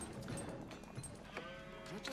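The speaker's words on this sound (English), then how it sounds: "Nice amount of sheep." Sheep in the Age of Empires video game let out faint bleats amid soft in-game ambience and clicks, heard quietly for a couple of seconds with no voice over them.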